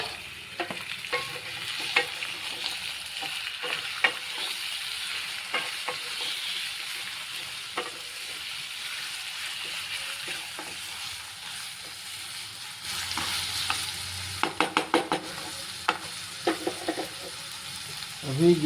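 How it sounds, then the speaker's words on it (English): Chicken pieces sizzle and fry in a pan for curry while a spoon stirs and scrapes repeatedly, soft steady frying hiss with intermittent clanks and a louder burst of stirring toward the end. "अभी चिकन को डाला जाए."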